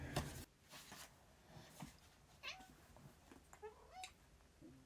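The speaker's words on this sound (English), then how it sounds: "Oh, we have a cat here." A cat meows several times, quietly and somewhat distant, with scattered thumps and room noise around it.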